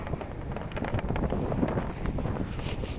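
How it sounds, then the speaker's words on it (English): Steady wind buffets a microphone during a drive, with a broad, constant rushing roar and no speech. "Now we got a wind coming at me now."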